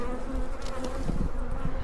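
Angry honey bees swarm around a disturbed hive, a dense, continuous close-up buzzing that fills the air without pause.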